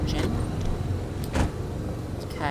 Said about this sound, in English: We're not going to turn off the engine